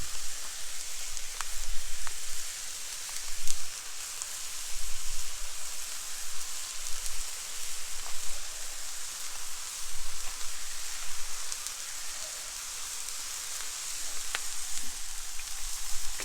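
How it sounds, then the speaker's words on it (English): Pepperoni slices frying on a Blackstone flat-top griddle for thin crust pizza, a steady close hiss and crackle with scattered sharp pops, continuous and fairly loud with no talking. "Okay, pepperoni's cooking up quick."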